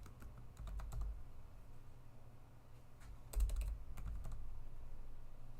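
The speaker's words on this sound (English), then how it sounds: "We'll type" Keys clatter on a computer keyboard in quick clusters of taps, with pauses between bursts, close by over a faint low room hum.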